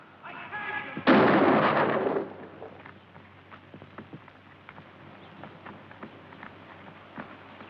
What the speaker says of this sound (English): Some posse man shooting a guy with his hands up.